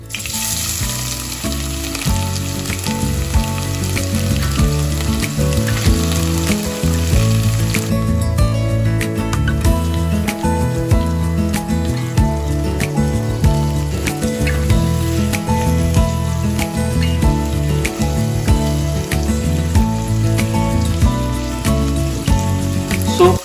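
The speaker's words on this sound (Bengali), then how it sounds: "আর এরপর পেঁয়াজটাকে ভাজবো।" Onions frying in a pan with star anise for a bachelor-style chicken curry, a close, loud sizzle that crackles steadily throughout with no voices.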